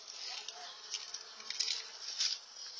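Bees swarming in the Brazilian backcountry buzz in a steady, thin drone that swells and fades, fairly close, with no voices over it.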